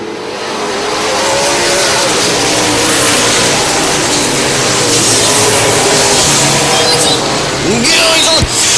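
Stock cars roar past at a short track as the green flag race gets under way, a loud continuous wash of engines revving and accelerating, with a brief sharper burst near the end as a car passes close.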